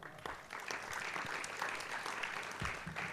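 An audience applauds at a French travel-industry conference, a short spell of moderate clapping that holds steady, heard somewhat at a distance.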